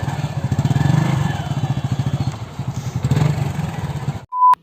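A motorcycle engine idles nearby with a rapid, pulsing putter that rises and eases slightly, then cuts out abruptly near the end; no talk over it.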